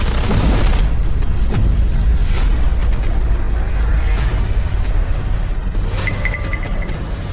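Loud continuous booming gunfire bursts fill the scene in an action fight, with heavy low rumble and sharp reports layered throughout and no clear pauses.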